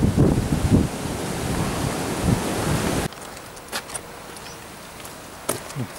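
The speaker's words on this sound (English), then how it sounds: "The wind, oh, it's picked up now." Strong wind gusting outdoors, roaring broadband noise buffeting the microphone loudly for about three seconds, then dropping to a quieter background with a few faint knocks.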